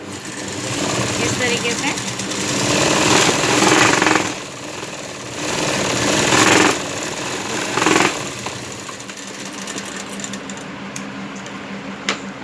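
A sewing machine stitches lining onto the front panel of a katori blouse, running in fast rattling bursts of several seconds with short pauses between them, close and loud, while someone speaks briefly.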